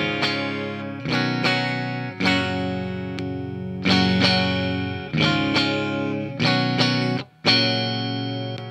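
PRS Fiore Mark Lettieri signature electric guitar with all three pickups on and the bridge humbucker in its alternate tone, played as bright, sustained clean chords struck about seven times, each ringing out before the next.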